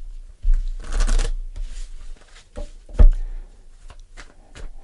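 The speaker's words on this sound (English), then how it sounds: "Let's pull a final card" Tarot cards shuffled by hand for a reading, a brisk riffling burst followed by softer shuffles and a sharper snap as a card is pulled, close and clear with no talking.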